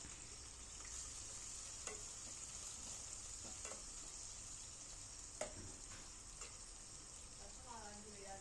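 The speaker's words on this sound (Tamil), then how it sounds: "வெங்காயம் கருவேப்பிலை பச்சை மிளகாய் இது மூணுத்தையும் போட்டு நல்லா வதக்கிக்கலாம்" Onion, curry leaves and green chillies sauté in a pan for kurma, giving a steady frying hiss throughout with a few brief clinks of stirring, and a voice talks faintly over it.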